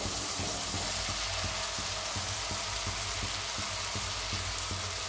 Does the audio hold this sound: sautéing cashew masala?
yes